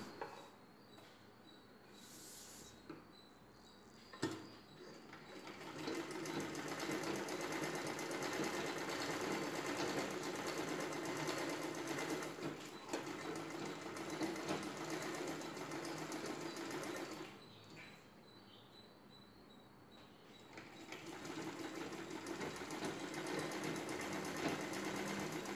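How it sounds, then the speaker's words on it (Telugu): A sewing machine stitches a lining piece and a saree blouse piece together along the neckline, running in two long steady bursts with short pauses, close by and alone. "లైనింగ్ పీస్, బ్లౌజ్ పీస్ ఇలా పెట్టుకొని ఈ నెక్ వైపున కుట్టు వేసుకోవాలి."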